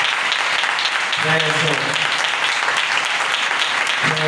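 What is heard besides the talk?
congregation clapping loudly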